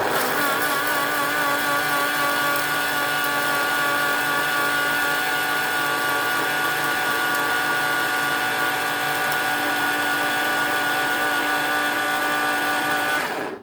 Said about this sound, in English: So I'm just going to grind this up a little bit more.